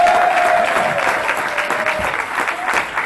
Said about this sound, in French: Je vous demande d'applaudir et d'encourager Johan Yang Ting.